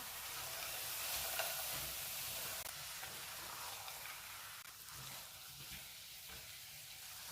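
Gajar ka halwa, grated carrot cooking with almonds in a pan, gets a steady stir, giving a faint continuous sizzle and soft scraping throughout with no talking.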